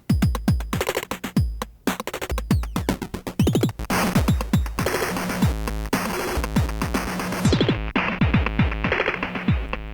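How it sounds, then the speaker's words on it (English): A drum loop chopped by a stutter effect, hits repeating in rapid glitchy bursts and retriggered fragments, loud and dense with no talking. "we have this stutter function, which gives us little sounds like this"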